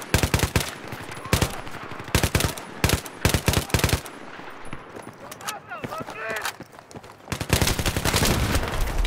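Rapid bursts of video game gunfire crack out loud and close, in fast machine-gun volleys with short pauses and a long burst at the end, and someone talks excitedly between and over the shots.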